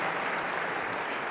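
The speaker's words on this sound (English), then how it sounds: "can we give our panel a round of applause, please?" An audience at a Saudi-US investment forum in Riyadh applauds a panel, a brief burst of steady clapping from a crowd.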